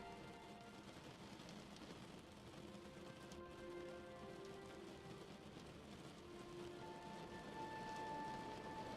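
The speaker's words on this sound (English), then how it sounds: "The sound of the rain is relaxing as it taps out a message to your mind" Rain taps on a surface in a dense, even patter, soft and steady throughout with small irregular drops, heard alone without voices.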